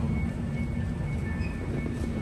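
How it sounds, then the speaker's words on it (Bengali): Steady low rumble and hum inside an airport train shuttling between terminals, constant and fairly loud with no clear individual events. "আবারও বহুদিন পর হচ্ছে ট্রেনে ওঠা হয়ে গেল।"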